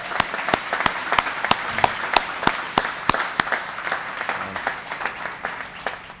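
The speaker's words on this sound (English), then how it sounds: "let's clap on that one because you're going to hear some people." A crowd at a mayor's legislation signing applauds steadily, with dense clapping and a few sharp, louder claps standing out, gradually thinning toward the end.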